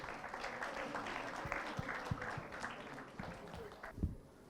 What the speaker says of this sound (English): I think again round of applause for Sriram, Praveen, Kalyan